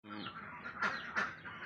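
Laying ducks on a small farm give a short burst of raspy, close quacks, with two louder honking calls near the end.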